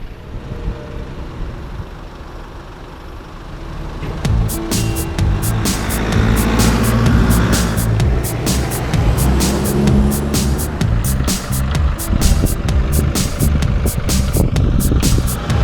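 A four-wheel-drive vehicle on an Australian beach starts up and drives, the engine rising from a quiet idle into a loud, rough, sustained roar with rattling and crackling bursts as it moves over the sand.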